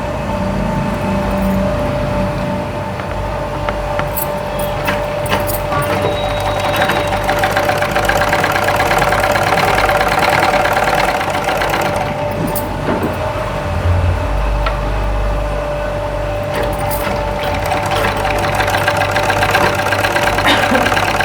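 A sewing machine stitches piping along the edge of a boutique-style garment, giving a steady, continuous motor whir with a mechanical hum that runs throughout without pause.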